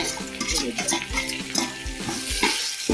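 Ginger and garlic fry in oil for beef pickle, sizzling steadily while a spoon stirs and scrapes the pan in repeated strokes, with occasional metallic clinks.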